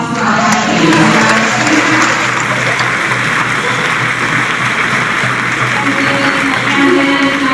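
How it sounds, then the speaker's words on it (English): Loud, sustained applause from an audience at a campaign event, a dense continuous roar of clapping that holds steady throughout with no speech over it. "I want another big round of applause for our campaign."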